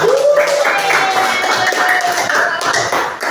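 Classroom applause for a student group after their presentation, a patter of claps from a small group with a tonal whistle-like sound and some voices mixed in.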